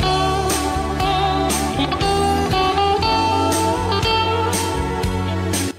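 Music arrangement blending the Asturian anthem Asturias Patria Querida with another piece plays clearly, with a steady chordal melody over rhythmic bass notes and regular percussive accents, no voices.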